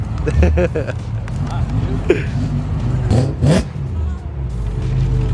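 A supercharged BMW F80 M3 engine revs hard with a rising supercharger whine, loud and close, while voices talk nearby.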